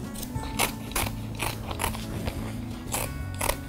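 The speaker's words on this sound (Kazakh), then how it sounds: "Енді қалған табандарын кесіп аламыз." Scissors snip through leather shoe soles in a steady series of crisp, crunching cuts about every half second, close up over a low background hum.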